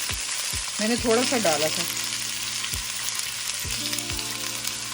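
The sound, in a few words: vegetables frying in hot oil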